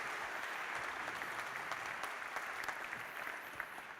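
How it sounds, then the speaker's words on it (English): Steady, dense applause from a conference audience at a web performance talk, welcoming a speaker to the stage; continuous and fairly distant, holding level for the whole stretch with no voices over it. "let's make him certain of that by giving him a giant round of applause"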